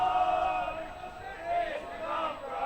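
A crowd at a women's premier hockey match between Loughborough and Birmingham gives a sustained, moderately loud shout and cheer, with voices blending into a rising and falling roar.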